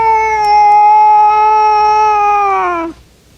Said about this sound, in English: a spirited caterwaul might also be used during feline turf disputes